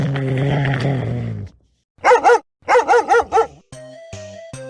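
A dog gives a low, drawn-out growl, followed by a run of sharp barks and some whimpering yips, close and clear with short pauses between.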